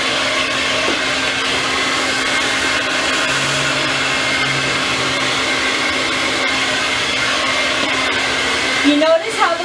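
Blow dryer drying hair, a loud steady whooshing roar running continuously at close range, with a brief clatter of handling near the end.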